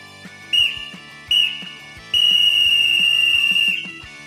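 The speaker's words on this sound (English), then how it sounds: "that's the final whistle on this very special episode" A referee's final whistle, loud and close: two short shrill blasts followed by one long sustained blast, heard over a soft low background tone.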